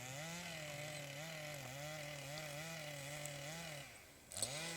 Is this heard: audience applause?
no